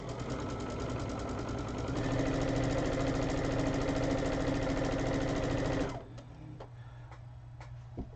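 A sewing machine runs steadily for about six seconds during quilting of a baby quilt, its rapid mechanical stitching rhythm fairly close and loud, then stops, leaving a few faint clicks and knocks.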